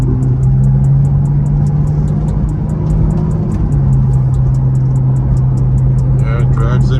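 Ferrari 458 Italia running on the road, a steady low engine drone with a constant hum throughout, close and fairly loud, with a faint voice near the end.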